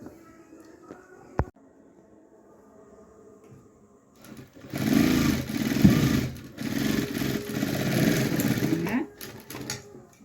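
A sewing machine stitches together cross pant pieces in a short burst that starts about halfway through, a steady whirring run after quiet handling sounds and a sharp click.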